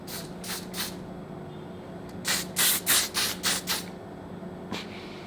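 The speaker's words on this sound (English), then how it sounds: "It's supposed to be a fine setting mist." An aerosol setting mist makeup spray hisses in a few short bursts, then a quicker run of five or six close, vigorous pumps, with a faint tick near the end.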